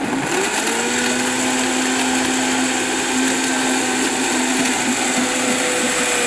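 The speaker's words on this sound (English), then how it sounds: "I'm going to turn this blender on" A Vitamix blender runs while tightly packed with celery and greens, producing a loud, unbroken motor drone with a steady high whine for several seconds.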